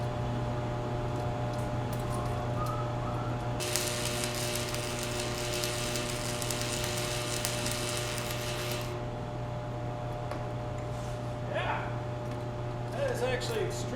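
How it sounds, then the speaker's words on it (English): Arc welding sputters and crackles in a loud steady burst for several seconds amid a background hum, done while wearing an auto-darkening helmet, with someone speaking before and after. "let's go ahead and get a few welds in and see how well this thing actually works"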